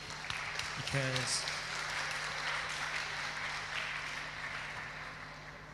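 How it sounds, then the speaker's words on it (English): A seated audience at the ARCHIPELAGIC FLOWS event applauds together after a brief spoken word: a steady, dense wash of clapping from many people in a large room, gradually thinning toward the end. "let's give another round of applause to all of us today"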